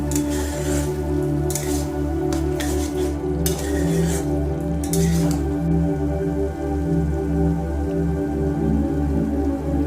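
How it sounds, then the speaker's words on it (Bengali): Potatoes sautéing with spice paste in a pan for raw banana curry, a continuous squelching, sizzling stir with repeated scraping strokes under a steady low hum, close and moderately loud. "মশলার সাথে আলুগুলো খুব ভালো করে আমি কষিয়ে নেব"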